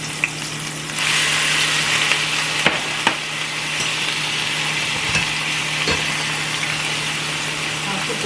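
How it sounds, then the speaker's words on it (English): Saltfish drops into hot oil and starts a loud, steady sizzle that rises suddenly about a second in and holds throughout, with a few sharp clinks over a low hum. "And then I'll put the saltfish."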